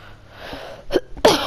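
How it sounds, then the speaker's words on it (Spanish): A short burst of coughing, two or three harsh explosive hacks rising in loudness toward the end, heard close and alone over a quiet background during a Call of Duty: Infinite Warfare session. "Ay, qué tos"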